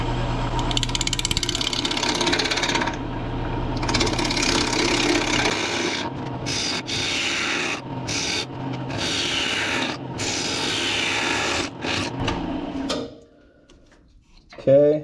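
A wood lathe turns at about 800 RPM, giving a steady rubbing, scraping whir of a tool against spinning wood that runs continuously for most of the clip before cutting off near the end.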